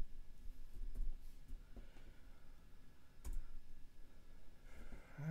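Someone types on a computer keyboard while working on a Raspberry Pi LED project. The key clicks are quiet and irregular, with a few sharper taps, and no one speaks.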